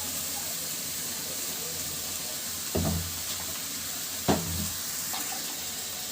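Papaya and large fish curry cooking in a pan on a gas stove, giving a soft steady sizzle and hiss with a couple of brief louder bursts of stirring or liquid added, no talking.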